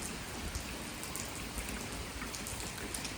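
Steady rain falls without a break, a soft, even hiss of drops that stays at the same level throughout with no voices.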